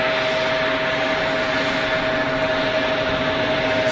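Steady broadband whine of a KLM Embraer jet at Geneva Airport, a continuous engine roar with a constant tonal hum, unbroken and fairly loud throughout with no voices.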